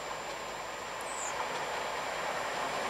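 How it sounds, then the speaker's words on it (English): A three-carriage Class 320 electric train passes Jordanhill station, a steady rolling hum and rush with a faint brief squeal partway through, fairly quiet and with no talk. "Here comes a 320 doing 2S39 from Wiflute to Dalmuir."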